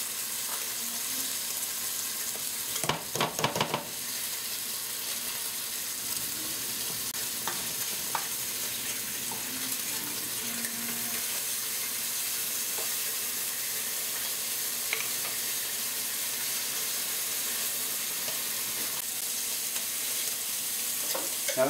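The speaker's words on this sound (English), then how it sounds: "I'm cooking the entire pan, or the entire package of bacon" A full package of bacon frying in a pan, giving a continuous close sizzle and crackle for the whole stretch, with an early burst of clattering and occasional small pops.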